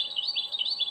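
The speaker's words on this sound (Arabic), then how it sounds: "هذه صوت فرخ الحسون." Goldfinch chick call: a continuous high, wavering twittering trill with rapid repeated rising notes, close and steady, with no voices.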